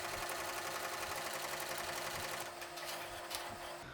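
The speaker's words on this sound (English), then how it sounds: "Stitch the tack down line." An embroidery machine stitches a tack-down line through batting on an in-the-hoop mug rug, giving a steady, fast mechanical chatter that runs close and continuous and eases off slightly near the end.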